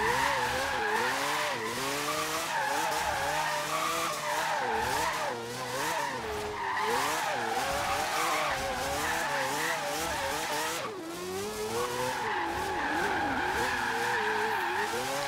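A car drifts sideways in the Forza Horizon 3 racing game, set up with soft anti-roll bars: a loud, continuous engine wail rising and falling with shifts between second and third gear, over steady tire squeal.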